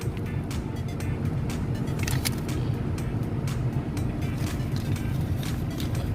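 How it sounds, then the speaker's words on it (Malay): A Proton Persona car engine idles steadily after starting, a constant low rumble with some faint clicking and rattling above it, close and continuous without talk. "Okey sahabat, sekarang kita dah start kereta."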